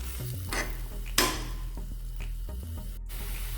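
Egg masala for noodles being stirred in a pan, a soft continuous scraping and light sizzle with a few sharper utensil scrapes, close and steady with no talking.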